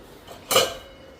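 A small metal wok clanks once against pots in a home kitchen, a single short close rattle in an otherwise quiet moment.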